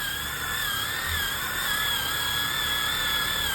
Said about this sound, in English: Just a little bit more sanding and it'll be perfect.